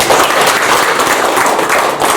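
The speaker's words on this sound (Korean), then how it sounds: "박수 한번." Members at a meeting of the Ansan tourism association in Korea break into steady, dense applause that fills the whole stretch. The clapping is close and loud, with no talking.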